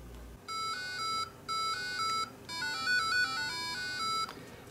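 An Arduino plays a run of electronic musical tones: a series of clear, beep-like square-wave notes at changing pitches, grouped in short phrases with brief gaps, moderately loud and up close with no talking.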